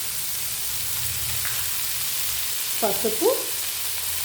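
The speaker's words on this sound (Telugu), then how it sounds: "కారం వేసి ఫ్రై చేసుకున్నామండి" Capsicum frying in a pan with salt and spices, a continuous close hiss and crackle throughout, with a person speaking briefly near the end.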